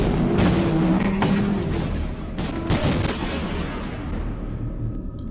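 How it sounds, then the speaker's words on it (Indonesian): Soldiers fire all their weapons at a monster in a film, a dense, loud barrage of overlapping shots and booms that gradually thins and fades toward the end. "para tentara langsung menembakkan semua senjata ke monster"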